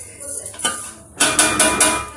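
A cooking pot being covered with a dish: a few close metallic clanks and clatters, first sparse and then several in a quick row.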